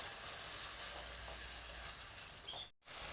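A spoon stirs a soy sauce and tomato sauce mixture in a hot pan for a potato snack, soft scraping over a faint continuous sizzle, close and quiet, with a brief pause near the end.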